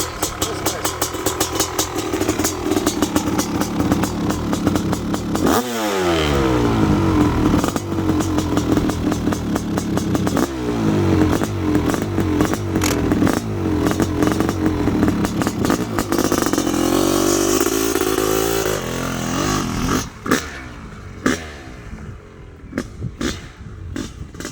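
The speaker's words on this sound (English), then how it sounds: "we're about to do something I always tell you not to do, and that's start a CR500 with sneakers on" A pristine 1997 Honda CR500R big-bore two-stroke motorcycle with a compression release fires up close by, then settles into a loud, raspy idle broken by repeated sharp revs that climb and fall before the engine cuts out.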